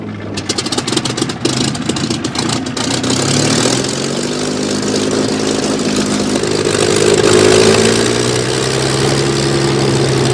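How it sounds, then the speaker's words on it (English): Strega, an unlimited-class racing airplane flown by Bill DeStefani, its piston engine starting up with sputtering bursts that settle into a steady, loud, rumbling idle, with the pitch shifting slightly as it runs. "From Skyfire's Hard Road to Hamilton, listen to 1987 Unlimited Gold winner Bill Tiger DeStefani as he starts the engine."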